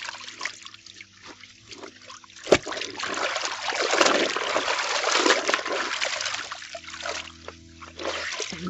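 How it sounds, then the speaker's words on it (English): White jeans are rinsed by hand in a basin of water, with sloshing, splashing and dribbling as the fabric is swished and lifted, including one sharp knock partway through. "So we are just rinsing the jeans."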